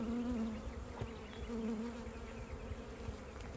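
Honey bees buzz around a nucleus hive, a dense steady drone close by with individual bees swelling past, no talking.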